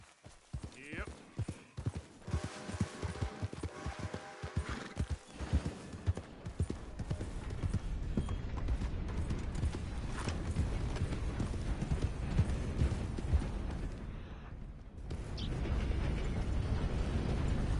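Rapid hoofbeats of a galloping horse in the video game Red Dead Redemption 2, starting with distinct clopping thuds that blur into a continuous rumbling rush of movement.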